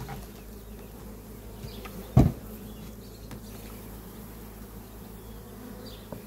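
Honeybees drone steadily in a low, continuous buzz around a beehive, close and even throughout, with one brief knock partway through.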